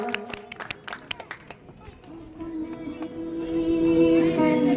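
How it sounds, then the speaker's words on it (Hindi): An audience applauding children at a live event, with scattered claps that swell into fuller, sustained applause mixed with chatter and music. "बच्चों का तालियों के साथ थोड़ा हौसला अफजाई करें"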